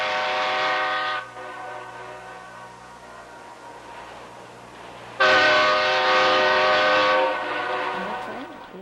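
Napa Valley Wine Train blowing its multi-tone horn in two loud, sustained blasts, the first about a second long and the second lasting around two seconds, with a rumbling train running underneath.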